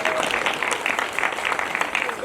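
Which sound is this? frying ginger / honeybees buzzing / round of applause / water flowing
round of applause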